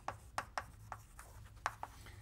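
Pen or marker writing math equations by hand, soft scratchy strokes and taps in an uneven rhythm, close and quiet.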